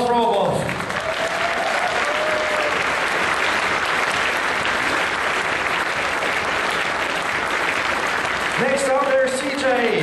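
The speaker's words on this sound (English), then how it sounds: "Round of applause for Olwolf" Sustained applause from a puppet show audience at a furry convention, loud and dense for nearly the whole stretch, with a voice speaking briefly at the start and again near the end.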